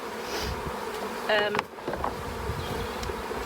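Honeybees buzz close by as they are moved into a new hive box, a steady insect drone with a brief louder whine passing near the microphone midway.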